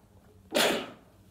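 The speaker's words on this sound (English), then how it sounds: "how did I sneeze 10 times?" A single sharp, breathy sneeze bursts out close to the mic, rising suddenly and trailing off over about half a second in an otherwise quiet room.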